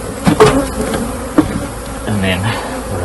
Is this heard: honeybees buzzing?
yes